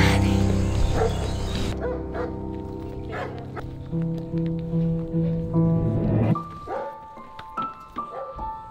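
A dog yelps and whimpers in high excited bursts, close by, over a brief stretch of loud music at the start, followed by scattered barks and voices.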